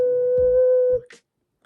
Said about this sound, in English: Just make the sound 2 as you're blowing into your ocarina.